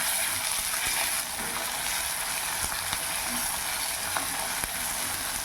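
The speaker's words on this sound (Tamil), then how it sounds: "தக்காளி வெங்காயம் எல்லாம் நல்லா வதங்கிருச்சுங்க" Tomato and onion sauté in a pan for banana flower chutney, giving a soft, steady, even sizzle with occasional faint clicks and no talking.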